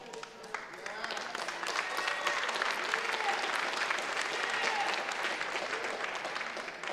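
Warm applause from a conference audience on opening night swells and holds steady, a dense wash of many hands clapping with faint voices mixed in.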